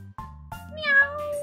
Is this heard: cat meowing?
yes